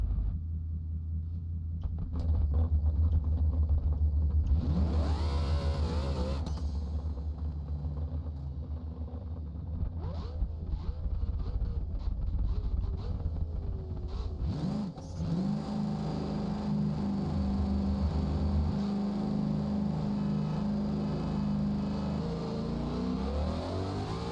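Engines roar loudly throughout a video game drag race, cars revving and accelerating hard against a Jeep Trackhawk, with a rising burst near the start and a second surge midway, sustained and close.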